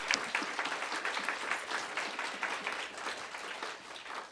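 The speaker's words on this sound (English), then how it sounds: "So I'd like to give a big round of applause to Amanda." A live audience at a 2023 comedy festival panel claps and applauds: a dense, steady wash of many hands throughout, moderately loud, with a faint cheer at the start.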